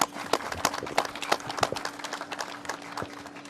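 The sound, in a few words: applause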